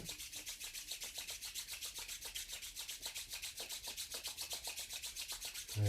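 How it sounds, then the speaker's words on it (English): Palms rubbed briskly together during a yoga session, a steady rhythmic swishing friction repeated many times at close range, soft and alone. "You can rub the palms together."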